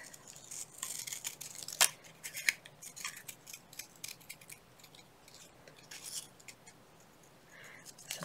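Scissors snip through paper around a pocket in a craft journal, quiet close-up cuts coming in irregular bursts with sharp clicks, without any talking.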